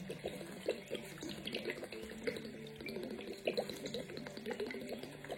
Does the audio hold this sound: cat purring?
no